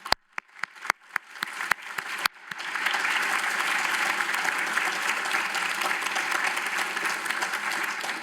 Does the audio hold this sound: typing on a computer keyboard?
no